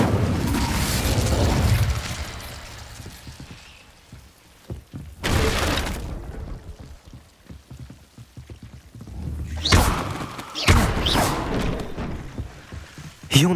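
A revealing spell cast in the Hogwarts Legacy video game gives off a loud shimmering burst, fades into quieter rattling textures, and then brings several sharp sweeping flares near the end.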